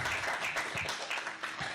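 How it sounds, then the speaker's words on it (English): Audience at a New School media studies orientation applauding newly promoted staff: a short burst of dense, steady clapping from a crowd in a room, with no talk over it. "let's give them a big round of applause"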